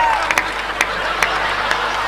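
Sparse, scattered claps rise from an audience at a Hindi poetry gathering in a village, a few distinct hand claps over a steady hum of crowd murmur.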